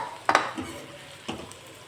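Leftover roti mixed with spices and garam masala is tossed in a pan over medium heat: two quick scraping stirs of a spatula against metal over a faint background sizzle.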